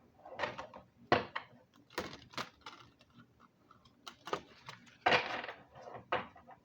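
Stiff cards of a gilded-edge oracle deck being side shuffled by hand, a series of soft papery riffles and slaps in uneven bursts, close and fairly quiet with no talking.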